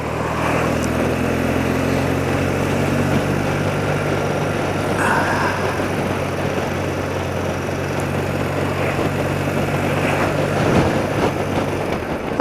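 An old motorbike ridden along a rain-soaked road, its engine droning steadily and close with a constant tire and spray hiss, a faint higher whine rising briefly midway.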